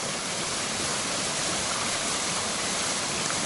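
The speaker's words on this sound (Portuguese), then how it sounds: "É bonita aqui a cascata." A steady, loud rushing roar of falling water from the waterfall at the sanctuary in Peneda-Gerês, Portugal, heard up close with no voices.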